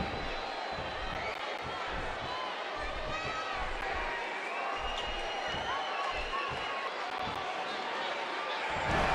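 An arena crowd in a WWE 2K wrestling video game roars and cheers steadily, a dense wash of cheering and noise under commentators talking over it.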